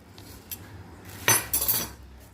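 Steel spoons clink together in a few short, bright taps, close up, with a quick jangle near the end.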